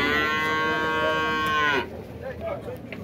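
A loud, drawn-out Girolando dairy cow moo with a rich harmonic tone lasts nearly two seconds, then fades into quieter outdoor background noise at a dairy cow fair in Dois Riachos, Alagoas.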